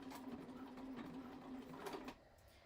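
A home sewing machine basting fabric at its longest stitch length of 6, a steady close motor hum running for about two seconds before stopping abruptly, with no talking.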